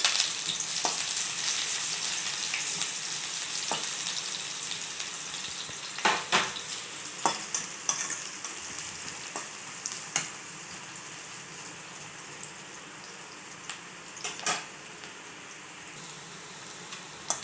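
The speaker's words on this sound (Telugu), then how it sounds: "ఇలా మధ్యలో ఇలా తిప్పుకుంటూ ఫ్రై చేసుకోవాలండి" Onions sizzling steadily in oil over a medium flame for semiya upma, a continuous close frying hiss broken by sharp clicks and clatters as the pan is stirred, with no talking.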